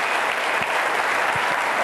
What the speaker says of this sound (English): we have to give a huge round of applause to everybody